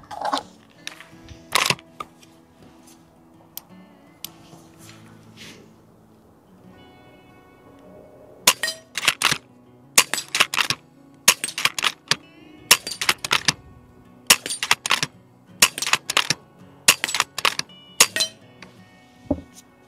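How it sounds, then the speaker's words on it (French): Rifle shots fired from a Caldwell Stable Table Lite shooting rest: a few sharp cracks, then a quick rapid string of loud, abrupt reports in close succession. "Et on peut aussi enchaîner les tirs très vite."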